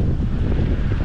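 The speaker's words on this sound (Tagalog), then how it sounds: "Ang lakas ng hangin." Strong wind buffets the microphone in a steady, heavy low rumble that stays loud throughout, with no voices.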